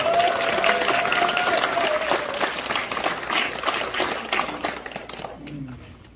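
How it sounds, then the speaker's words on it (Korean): Applause from the crowd at a badminton club's 32nd anniversary tournament and president inauguration, greeting the new club president, a woman. A steady wash of clapping with voices mixed in fades toward the end. "이분에게도 축하한다는 뜻에서 뜨거운 박수 한번 보내주시죠"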